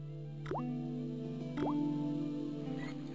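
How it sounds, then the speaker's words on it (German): A rusty faucet in the point-and-click game Baphomets Fluch drips, two distinct water drops plopping about a second apart, each with a short rising ring, over a steady low ambient hum. "Ich drehe den Wasserhahn so fest zu, wie es nur geht, aber er tropft weiter."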